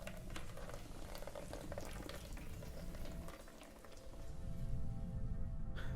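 Steady, dense rain hiss in a video game, a continuous broadband patter with a low rumbling bed, swelling slightly louder toward the end.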